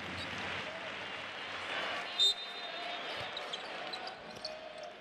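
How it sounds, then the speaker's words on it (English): Crowd applause in a basketball arena during a Basketball Champions League game between UCAM Murcia and MHP RIESEN Ludwigsburg, a steady mid-level clapping wash as a player enters, with a commentator talking over it and a brief ball bounce. "A round of applause."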